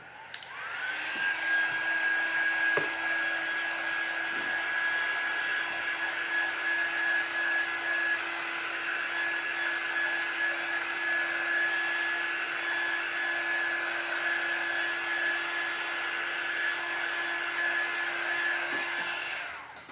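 A hair dryer blows steadily for about twenty seconds, drying a paper lunch bag gingerbread house, with a constant loud whir and a thin high whine and no talking.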